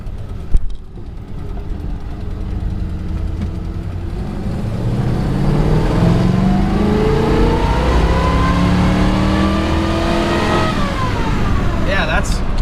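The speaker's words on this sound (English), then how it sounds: "That was a second gear pull from almost a stop." A Buick's engine climbs steadily in second gear from nearly a standstill, its rising drone swelling loud and close after a brief thump at the start, holding strong to the end.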